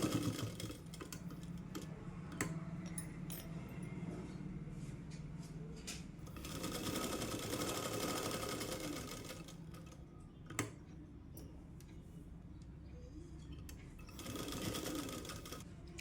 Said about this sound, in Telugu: ఇప్పుడు స్టిచ్ చేస్తాను చూడండి